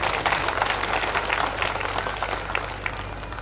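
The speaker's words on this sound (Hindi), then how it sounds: "अपने लिए एक बार जोरदार तालियों से स्वागत करें" A crowd at a community conference bursts into sustained applause, a dense wash of many hands clapping at steady loudness that eases slightly toward the end, with no voice over it.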